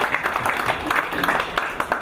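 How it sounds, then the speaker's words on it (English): Audience applause at a farewell party, steady scattered clapping from a crowd, moderately loud and continuous for the short stretch, with some voices mixed in. "Can we put hands together again and clap?"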